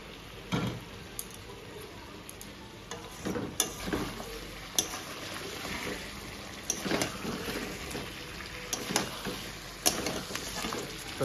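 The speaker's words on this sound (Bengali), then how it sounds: "মাংসটাকে খুব সুন্দর করে কষিয়ে তারপরে প্রেশার কুকারে দেবো।" Meat is browned in a pan before going into a pressure cooker, with a faint, steady sizzle broken by scattered clinks and scrapes of stirring.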